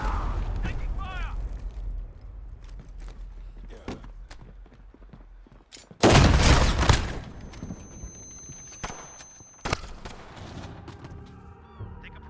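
Gunfire in the video game Call of Duty Modern Warfare (2019), with sparse shots, then a sudden loud close burst of automatic fire and another sharp volley later, amid quieter game sounds and a voice talking.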